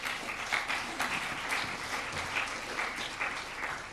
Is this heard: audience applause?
yes